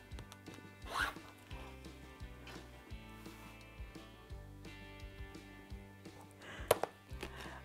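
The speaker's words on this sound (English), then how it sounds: "oops, I cut one the wrong way" Red and cream quilting fabric is cut into strips, with two brief zipping rasps of the cutter about six seconds apart and soft handling noises between, all under quiet background music.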